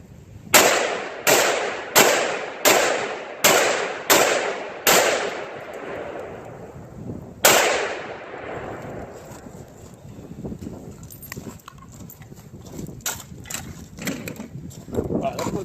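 An AR pistol with a 7.5-inch barrel fires nine sharp, loud gunshots, eight in a quick evenly spaced string and one more after a pause, each ringing out outdoors, followed by a stretch of rustling and movement.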